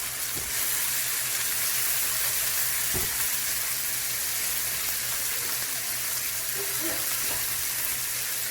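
Chicken pieces fry in a pan over a high flame, giving a steady, loud broadband sizzle throughout with a few faint stirring clicks and no talk.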